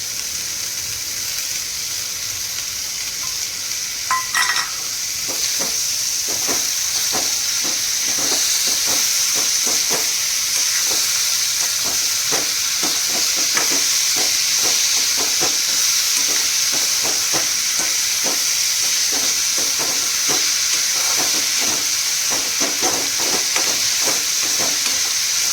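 Tomatoes sizzle loudly in a pan for smoky baigan bharta, a steady frying hiss broken by frequent scraping stirs throughout, with no voices.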